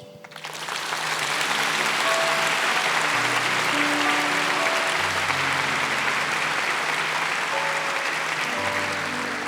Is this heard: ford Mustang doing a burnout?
no